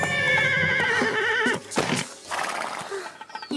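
An animated nervous horse gives a loud, wavering whinny that breaks off abruptly, followed by brief scuffing and snorting sounds.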